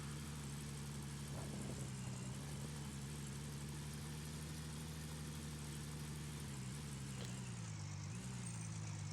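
A car engine idles steadily in Gold Mining Simulator, a low continuous hum that holds evenly throughout with a slight dip near the end and no talking.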